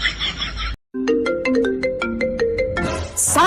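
A mobile phone ringtone plays nearby in a household, a bright repeating electronic melody of evenly spaced tones lasting a few seconds after a brief silence, with voices heard before it starts.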